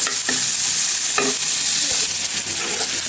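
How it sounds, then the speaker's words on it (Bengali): Prawns frying lightly in a little oil in a pan, a loud continuous close sizzle with occasional spatula stirs and clinks, no voices. "চিংড়ি মাছটা একটু তেল দিয়ে হালকা করে ভেজে নিব"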